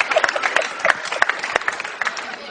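Audience applause at a Tunisian comedy or talk show, dense clapping from a crowd with sharp individual claps standing out, fairly close and steady throughout.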